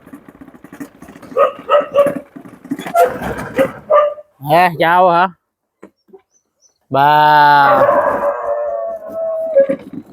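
A house dog barks in short bursts, then lets out a long, loud wavering howl at close range, with people talking over and between the calls.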